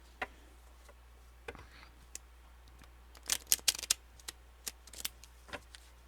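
Playing cards being shuffled by hand in a quiet room, a scattered series of faint crisp riffles and flicks with brief clustered bursts, no talk.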